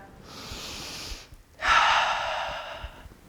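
A person breathes during a hatha yoga flow, with a soft breath followed by a louder, deep audible inhale up close and no talk.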